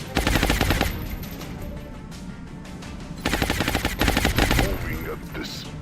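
Bursts of rapid automatic gunfire in the XCOM Long War strategy game, two long rattling volleys separated by a quieter stretch of fainter shots, loud and close.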